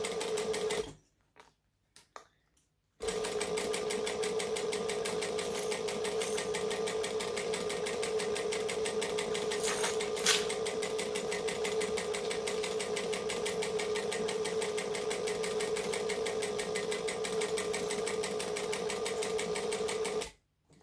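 A home sewing machine runs steadily, stitching across the bottom edge of a fabric garment, with a brief stop-start near the beginning. Its close, even mechanical whir then continues unbroken until it stops at the end.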